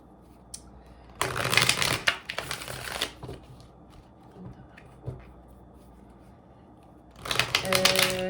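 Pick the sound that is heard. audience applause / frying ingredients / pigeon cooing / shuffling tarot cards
shuffling tarot cards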